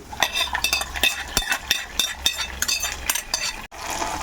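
Fried ingredients tipped into a pot of sweet pongal and stirred in a new cooker: steady scraping and clinking of a spoon against metal, with a soft sizzle underneath, close and fairly loud.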